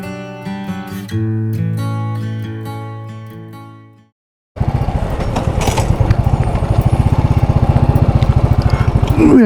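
Motorcycle cruising on a long, nonstop ride through Yanam town in East Godavari, the engine loud and close with a steady pulsing drone after a short pause and a rising tone before it.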